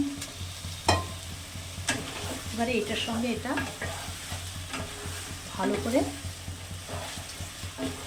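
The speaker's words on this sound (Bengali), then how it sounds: "মাংসটাও ভাজা ভাজা হবে পেঁয়াজ রসুন সব ভাজা ভাজা হবে" Pressure-cooked chicken pieces fry with onion and garlic in a pan, sizzling steadily while a spoon scrapes and stirs in repeated strokes; someone talks briefly over the cooking.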